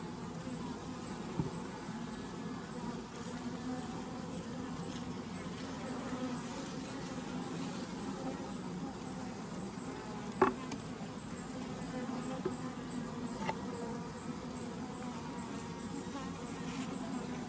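Honeybees shaken off a frame of a 24-frame Layens horizontal hive drone in a steady, dense buzz that persists throughout, close and moderately loud, with a few faint clicks and no talking.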